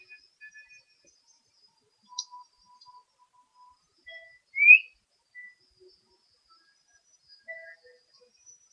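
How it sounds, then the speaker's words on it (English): A woman whistles gently to call a dog: soft, short notes come sparsely and quietly, one slightly stronger chirp in the middle, with long near-silent gaps. "She whistles gently to the dog to come."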